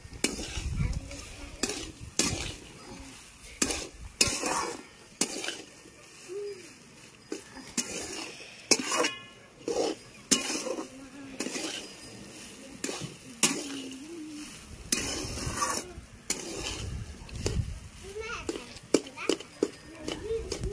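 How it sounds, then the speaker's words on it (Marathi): Potatoes being stirred and sautéed in a pan over a wood-fired chulha, with repeated sharp scraping and clanking strokes of a spoon against metal over a light sizzle, while people talk intermittently nearby. "बटाटा परतून घेतला मी आता सगळा"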